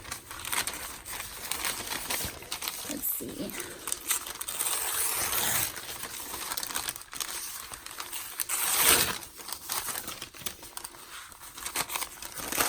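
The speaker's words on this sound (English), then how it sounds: "I think I'm going to just crinkle the whole thing up since it has some folds in it. Just tear it right here." Deli paper for decoupage is crinkled and torn close up in a series of loud crackling, rustling bursts, with a brief spoken remark.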